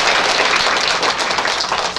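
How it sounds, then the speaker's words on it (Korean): A church congregation applauds during a Sunday morning service, a dense, steady wash of clapping throughout. "박수 한번 쳐주세요"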